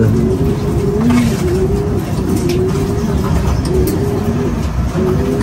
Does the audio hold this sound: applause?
no